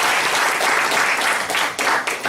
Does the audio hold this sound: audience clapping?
yes